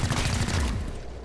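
A burst of gunfire in XCOM: Chimera Squad, a dense rattling volley that fills the moment and then trails off into a fading tail.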